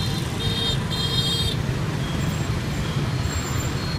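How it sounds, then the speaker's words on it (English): A public bus idles and rumbles amid dense Vietnamese street traffic, with steady low engine noise, brief high brake or hiss tones early on, and a continuous roar of cars and motorcycles around it. "We also have a public bus like this one."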